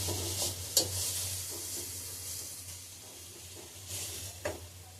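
Coriander leaves frying in hot oil in a pan for pickle, a steady close sizzle and hiss with occasional stirring scrapes and soft pops, no voices.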